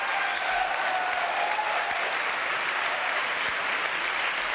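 A studio audience on a French TV game show claps steadily, dense sustained applause filling the whole stretch at even strength without voices over it.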